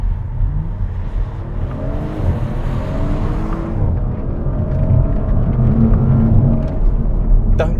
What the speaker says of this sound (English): those gear changes are just as fast, but they're smoother